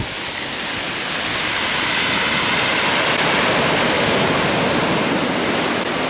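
Big shore-crashing waves pound a California beach, a loud, steady roar of surf that swells slightly in the first second and then holds as one continuous wash of broadband noise with no voices.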